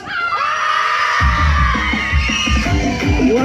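A concert crowd at an outdoor event in Jasło cheers and yells loudly as a pounding drum-driven band kicks in, the shouting sustained throughout.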